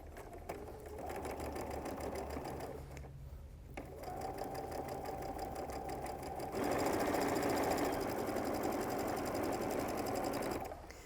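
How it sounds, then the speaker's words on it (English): A sewing machine stitches a quarter-inch seam on a green and purple quilt block, humming steadily throughout and speeding up toward the end, with no talk. "I'm just going to come down and make that good 1/4 inch seam."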